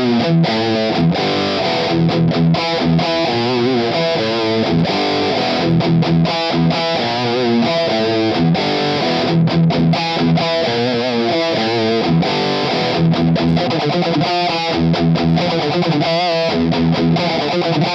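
Distorted electric guitar with single-coil pickups played through a Cuvave Cube Baby on a Dual Rectifier setting, with choppy rhythmic chords and riffs throughout, loud and alone.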